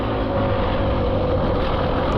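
Beta 300RR Race Edition dirt bike engine lugging at low revs while riding, a steady, loud, close rumbling drone with no break and no talking.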